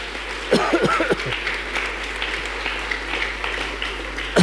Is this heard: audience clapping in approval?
yes